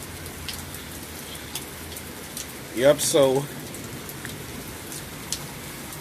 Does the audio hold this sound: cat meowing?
no